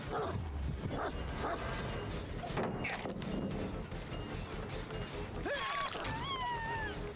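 A hunting dog in a Dead by Daylight match barks and yips in short bursts over a busy, loud game mix of rumbles and clatter, with rising whine-like tones near the end.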